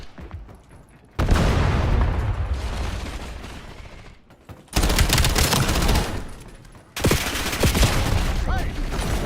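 Video game firefight with a frag grenade incoming, bursts of loud automatic gunfire and booming blasts in three heavy waves separated by short lulls.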